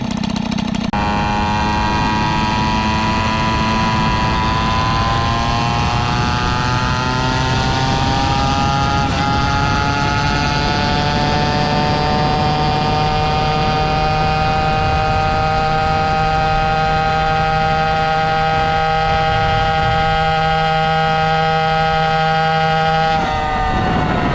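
A Peugeot 103 moped fitted with a Bidalot RR exhaust and an Airsal Boost engine runs flat out at top speed, a loud, close, continuous high-pitched two-stroke wail whose tone climbs slowly and then holds steady before cutting off abruptly at the end.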